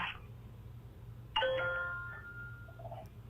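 A two-tone doorbell chimes once with a bright ding-dong that rings out and fades over a low background hum, with nobody talking.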